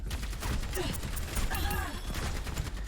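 Rapid bursts of gunfire in the video game Overwatch, a dense rattling volley of shots mixed with game effects and a talking voice over the top.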